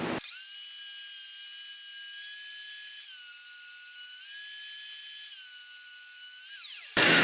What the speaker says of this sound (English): We're going to use a planer, because we got one.